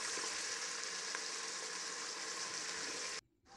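A frying dish sizzles steadily in the pan as coriander is mixed in, a continuous crackling hiss that holds evenly and then drops away abruptly near the end.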